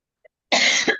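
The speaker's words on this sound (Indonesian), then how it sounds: "Waduh, batuk-batuk." A single harsh, close cough erupts after a brief silence and a faint click, lasting about half a second with a rough, breathy tail during an online Arabic lesson.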